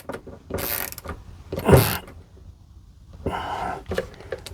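A ratcheting screwdriver tightens a smoke detector bracket with close, sharp bursts of clicking ratchet and creaking metal, separated by short pauses, three clear rounds of turning across a few seconds.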